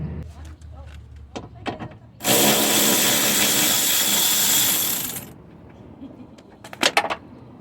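A power tool whirs steadily for about three seconds, driving a 10mm bolt on the front left window regulator of a Lexus ES300, loud and close, with faint clicks and handling noises before and after.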